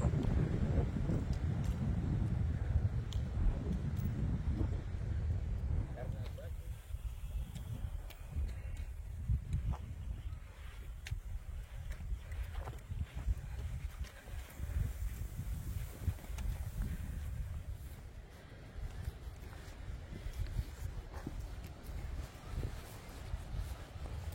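Strong wind buffets a campsite on the open Savana 2 grassland, a constant roaring rush that surges and eases in gusts and stays loud and close for the whole stretch, with no talking.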